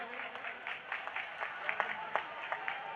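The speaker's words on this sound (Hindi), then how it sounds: "मैं चाहता हूं पहले पूरा सदन भाई सुमित मिश्रा का जोरदार तालियों से स्वागत करें" Applause from an audience at a poetry gathering during a fair festival in Mauranipur, a steady patter of many hands clapping with a few sharper claps standing out, moderately loud throughout.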